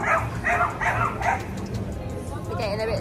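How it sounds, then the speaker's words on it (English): Several dogs bark and yip excitedly in the background of a hotel room in Singapore, in quick repeated bursts that fade toward the end, with a whimper near the close. "Dogs are getting a bit excited right in the back there."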